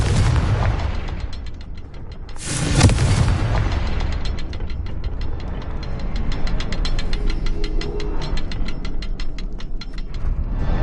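A Confringo spell blast in the Hogwarts Legacy video game: a sharp, loud explosive burst with a rumbling tail, set among ongoing mechanical ratcheting and rhythmic clanking game sounds.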